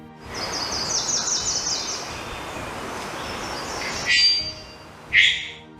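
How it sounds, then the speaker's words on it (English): A loud, ringing bell-like call from a male bird bursts out twice near the end, sharp and metallic, after a stretch of steady background noise. "Males make one of the loudest bird calls, bell-like sound that can be heard over a mile away"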